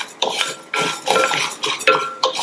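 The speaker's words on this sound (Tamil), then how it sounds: "இதுல நம்ம எடுத்து வச்ச ஜவ்வரிசியை சேர்த்துட்டு நிதானமான தீயில வச்சு இந்த ஜவ்வரிசி நல்லா பொரியிற அளவுக்கு வறுத்துக்கங்க" Sago pearls are stirred and roasted in a pan over a low flame, with a utensil scraping and rattling the pearls in repeated rhythmic strokes, close and fairly loud, with no talk.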